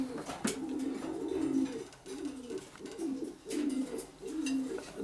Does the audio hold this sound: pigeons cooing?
yes